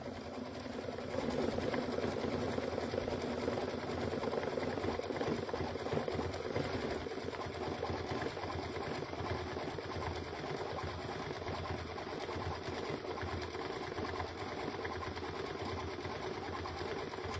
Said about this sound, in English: it's going to stitch the last eyeball